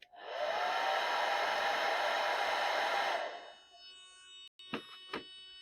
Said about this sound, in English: It's kind of hard to hear over the hairdryer.